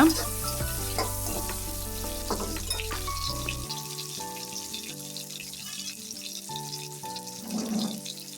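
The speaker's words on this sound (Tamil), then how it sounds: "எண்ணெய் சேர்த்துட்டு இந்த எடுத்து வச்சுருக்கிற காஞ்ச மிளகாய், உள்ளி, தேங்காய், சின்ன வெங்காயம் எல்லாத்தையுமே நல்லா வதக்கி எடுத்துக்கொள்ளுங்க" Dried red chillies, garlic, grated coconut and shallots sauté in hot oil for a chicken gravy, producing a bright, continuous sizzle with crackling bursts up close and no speech.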